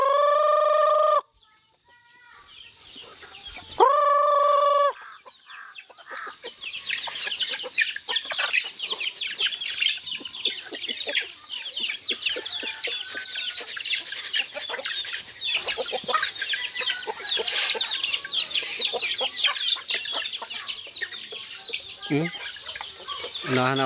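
Chickens cluck and chatter continuously, with a rooster crowing loudly twice near the start, close and lively throughout.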